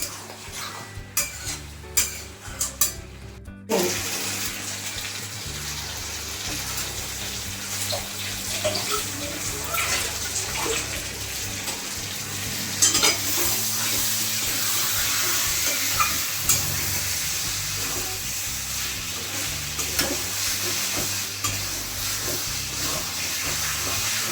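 Mutton rogan josh being stirred and mixed in a pan, with a few scraping clinks at the start, then a steady loud sizzling hiss of cooking that continues throughout, close by and without talking.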